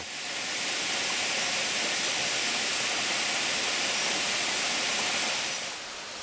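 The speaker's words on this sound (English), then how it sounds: "eventually leading to a lovely waterfall" A waterfall along an uphill forest trail pours in a steady, dense, hissing roar that stays loud and even throughout, with no voices present.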